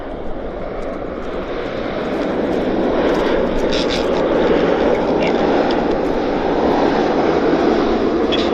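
An Alaska Horizon Airlines flight inbound from Seattle arrives at Vancouver Airport, its engine roar loud and steady and building slightly as it passes, with a voice heard over it.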